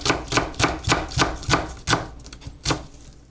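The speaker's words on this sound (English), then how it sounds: "So we're gonna use white onions. We're gonna chop just what we're gonna need." A knife chops through white onion on a cutting board in quick, crisp strokes, about a dozen close, distinct knocks with brief uneven pauses, no voices.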